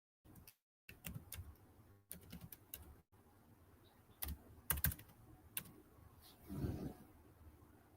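Typing on a computer keyboard indoors, with quiet irregular bursts of key clicks and a few louder taps between short pauses, faint and close.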